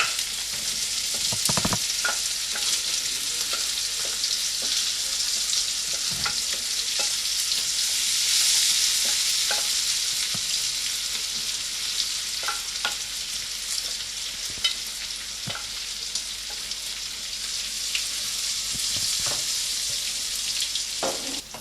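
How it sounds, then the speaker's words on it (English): Biltong fries in hot oil while being stirred, a steady bright sizzle running throughout with scattered sharp pops and scraping clicks from the stirring, close and loud with no talking. "Now our oil is warm enough, our oil is hot enough, so we can just be adding our biltong to the mix."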